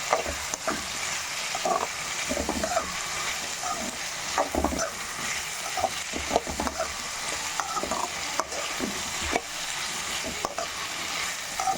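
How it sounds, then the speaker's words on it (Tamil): Chopped tomato and onion sautéing in a pan for a drumstick tamarind kuzhambu, with steady sizzling and repeated stirring scrapes throughout, close and continuous. "தக்காளி சேர்த்துட்டு தக்காளி நல்லா மசிஞ்சு வர வரைக்கும் வதக்கிக்கலாம்"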